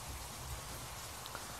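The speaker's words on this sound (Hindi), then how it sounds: "काफ़ी तेज़ बारिश भी हो रही है" Steady rain hiss in an Indian truck driving simulator video game, a continuous broadband wash of heavy rainfall with low rumble underneath, fairly faint and even throughout.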